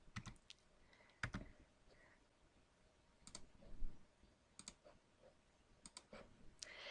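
Computer keyboard typing during a CAD object-selection session: short clusters of crisp key clicks separated by pauses, close and soft in a quiet room with no speech.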